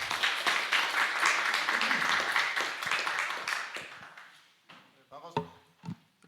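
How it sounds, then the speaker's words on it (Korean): An audience at a mentoring lecture event for young Koreans in Ecuador gives a welcoming round of applause, dense clapping that swells and then thins out into a few scattered claps and knocks near the end. "큰 박수 부탁드립니다."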